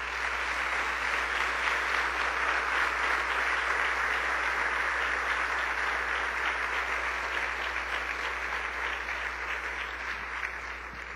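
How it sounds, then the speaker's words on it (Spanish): A church congregation applauds in praise, a dense, steady wash of many hands clapping that stays loud and even for the whole stretch, tapering only slightly at the end. "Le damos un aplauso al Señor"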